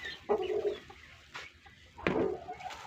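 Chickens being fed on a Thai farm give a few short clucks and calls, quiet and somewhat distant, with pauses between them.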